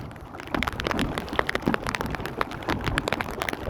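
Steady rain patters on water and a kayak outdoors, a dense, even spatter of drops with sharper individual hits, fairly close and continuous with no talking.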